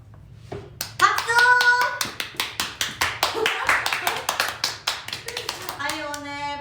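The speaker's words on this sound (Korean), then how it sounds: "박수!" Sharp, evenly spaced hand claps ring out close by at a performing arts high school graduation, a quick steady rhythm of a dozen or more claps, with a voice speaking before and after.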